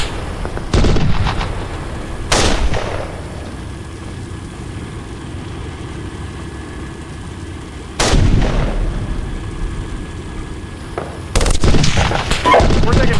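Heavy gunfire and artillery blasts from a tank battle in Steel Beasts Pro PE, a Russian attack in northeast Ukraine, hit in loud bursts at intervals over a steady low rumble of engines and ambient battlefield noise.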